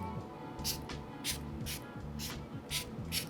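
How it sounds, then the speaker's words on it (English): Lima Oxygen Mist facial spray is pumped in six quick bursts, each a short airy hiss spaced roughly half a second apart, close and quiet. "so you spray about 6 to 12 mist"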